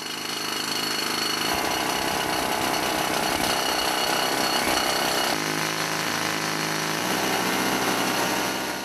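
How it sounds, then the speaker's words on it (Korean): A water-fed rock drill bores into hard quartz rock deep in a gold mine, a loud, relentless hammering roar that shifts pitch as it bites, with no voices. "막대 끝에서 물이 나오는 것과 동시에 강한 압력으로 바위를 뚫고 들어가는 기계"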